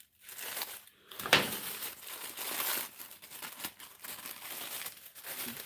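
Thick, well-wrapped packaging is sliced open with a blade, giving close, irregular crinkling and crackling with short tearing bursts and brief pauses.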